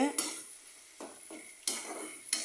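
A spoon stirs beaten eggs with pepper into beans in a pan, making repeated scraping strokes and light metallic knocks over a faint sizzle.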